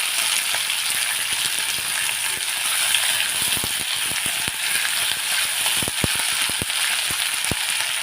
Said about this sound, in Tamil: நல்லா வதங்கி வரட்டும் இந்த வெங்காயம் தக்காளி பூண்டு எல்லாம் நல்லா வதங்கி வரட்டும்